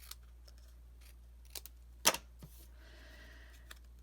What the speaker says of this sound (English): I'm just going to trim off the little scallop cutout that we had made when we cut out the scallops.